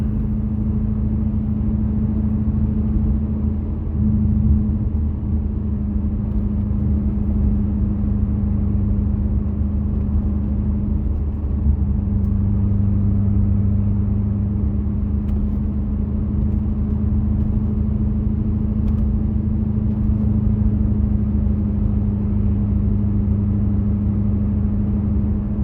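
A 1990 C4 Corvette ZR1 cruising along a back road, its engine a steady low droning hum with constant rumble from inside the cabin, holding an even tone with slight shifts in pitch throughout.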